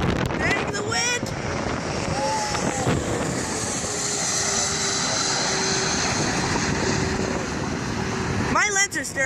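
An airplane flies over at Detroit's DTW airport with a sustained, broad engine roar heavily buffeted by wind noise on the microphone, while people talk briefly at the start and end.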